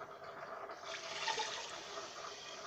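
Water poured from a glass into a pressure cooker holding rice and salt, a soft steady splashing pour, faint and close, with no voices.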